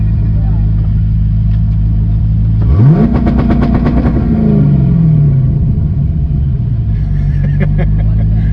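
A C5 Corvette fitted with two-step launch control, idling loud and close, then a sharp rev that holds on the limiter with rapid popping crackle before settling back to a rumbling idle.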